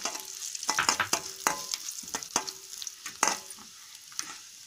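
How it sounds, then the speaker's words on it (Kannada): Garlic cloves and spices crackle and sizzle in hot oil in a pan, with repeated sharp stirring scrapes of a spoon, close and fairly quiet. "ಬೆಳ್ಳುಳ್ಳಿ 6 ರಿಂದ 7 ಪಾಯಿ ಹಾಕೊಂಡ್ಬಿಟ್ಟು ಫ್ರೈ ಮಾಡ್ಕೊಳ್ಳೋಣ"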